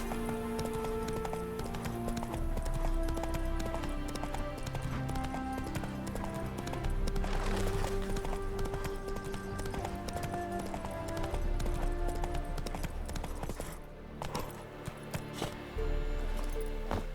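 Horse hooves clip-clop at a gallop in The Witcher 3 video game, a steady rhythmic beat running under continuous game music and ambience throughout, with no clear break.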